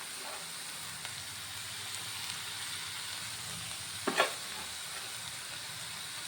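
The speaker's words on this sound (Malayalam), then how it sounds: "അപ്പോൾ ഇതൊന്ന് നന്നായിട്ട് ഇളക്കിയെടുക്കാം." White bitter gourd and grated coconut are stirred in a pan, giving a faint, steady sizzling hiss with a brief scraping stir about two-thirds through.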